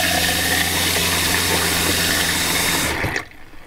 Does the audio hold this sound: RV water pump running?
yes